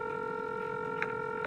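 A telephone tone holds steady for about a second and a half, with a faint click partway through, clear and close, with no talk over it.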